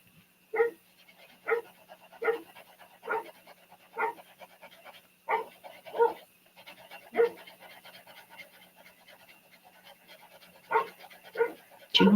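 A dog barks in short, sharp single woofs spaced a second or so apart, about a dozen in all, with quiet between them.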